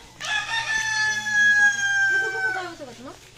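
Rooster crowing with a long drawn-out call among backyard chickens kept during lockdown, followed by clucking, fairly close with farmyard noise underneath.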